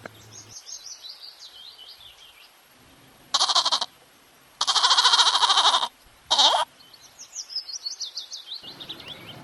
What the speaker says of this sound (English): G. G for goat.